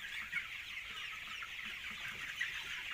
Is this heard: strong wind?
no